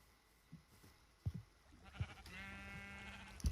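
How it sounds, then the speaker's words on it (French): Sheep bleat in the video game Minecraft, several short bleats scattered over a few seconds and then one longer wavering bleat, moderately close amid faint game sounds. "les moutons empruntent mon pont"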